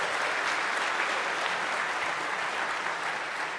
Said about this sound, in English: Let me hear a big applause just once again for all of these guys